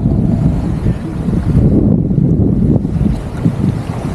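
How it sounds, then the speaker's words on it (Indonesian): Strong wind blows across open sea aboard a small fishing boat catching sea prawns, a loud, gusting rumble buffeting the microphone, with engine and water noise mixed beneath it. "Eh, berangin pula."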